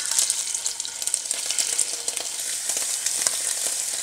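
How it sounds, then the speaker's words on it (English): Loud, steady sizzling of scallops frying in hot oil, a continuous crackling hiss close by with no voices. "I want that sizzle on the scallops."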